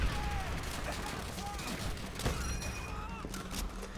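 M1 carbine gunfire in the World War II shooter Call of Duty: World at War, with repeated sharp shots and distant battle noise, a voice talking over the action throughout.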